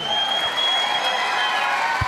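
An audience breaks into applause at a success-story talk, a short burst of close, dense clapping that stays loud and even for about two seconds.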